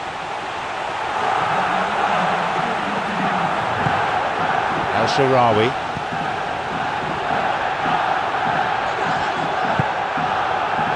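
Stadium crowd noise from the Pro Evolution Soccer 2015 football video game roars steadily as a broad, continuous wash of cheering. A commentator speaks briefly over it midway.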